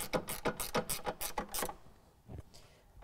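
Screws are tightened during a sound system install in an Audi A4 B9, giving a close run of quick ratcheting clicks in an even rhythm, then a pause and a few last clicks.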